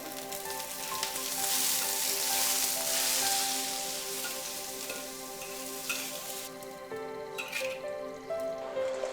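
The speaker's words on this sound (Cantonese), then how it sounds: "再將新鮮嘅沙蟲爆香" Fresh sand worms stir-fried in a hot wok at an overnight Chaoshan congee shop give a steady, close, crackling sizzle with occasional spits, over a soft tonal background.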